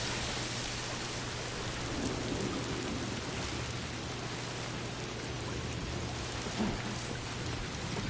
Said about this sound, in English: the Timefall's pretty strong out here.